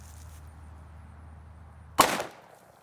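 A .357 Magnum revolver fires a single sharp, loud shot at a pumpkin after a quiet stretch, and the blast decays with a short echo.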